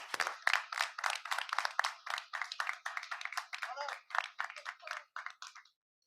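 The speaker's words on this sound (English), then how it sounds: "So a round of applause for Ethan, please." Applause at a school board meeting honoring a student, a dense, steady run of hand clapping that lasts about five and a half seconds and then stops abruptly.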